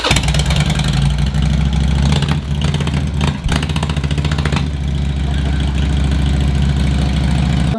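A moped engine idles loudly and steadily up close, holding a constant low rumble throughout with only brief dips in level.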